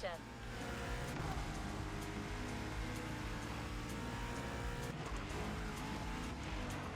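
A modified car in The Crew Motorfest, fitted with a wide body kit, big spoiler, splitter and hood blower, gives a loud, continuous engine roar and howl, with a voice talking over it.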